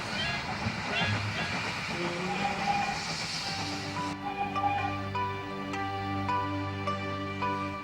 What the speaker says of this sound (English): Train whistle blowing makes a sleepy noise.